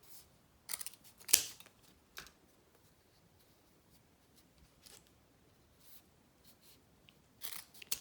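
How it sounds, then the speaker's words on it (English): Scissors snip through a backpack strap folded in half and then in half again, cutting it into four pieces, with a few sharp, close cuts spaced out across otherwise quiet handling. "So now I'm going to go ahead and cut it into 4 equal pieces. So I fold it in half, snip"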